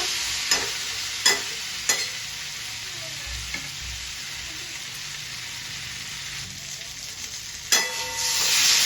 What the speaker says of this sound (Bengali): পটলটা সুন্দর করে কষে নেব।